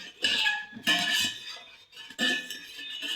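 A jelly mixture is stirred in a container, giving three bright clinking strokes of a utensil against the sides, spaced evenly and heard close and alone.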